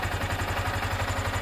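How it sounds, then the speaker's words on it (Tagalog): A car engine idles with a steady, low rhythmic chug and a constant mechanical hum. It stays at an even level throughout, with no voices. "pag binuhay natin yung makina"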